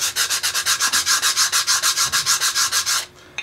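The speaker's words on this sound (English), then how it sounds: "I just use a piece of just regular sandpaper, keep in my pack with me" Regular sandpaper rubbed across the grain of a slate turkey call, a rapid run of about twenty even, rhythmic scratching strokes, close and loud, then stopping abruptly.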